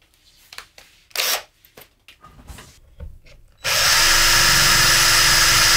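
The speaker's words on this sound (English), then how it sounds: "flip it over and drill the holes for the neck" A power drill bores the neck holes in a homemade guitar body. Several seconds of handling clatter and bumps come first, then the drill starts and runs at a loud, steady whine until the end.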